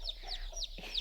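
A hen clucking on a lawn, several short close clucks in quick succession over a faint low hum, with no talking.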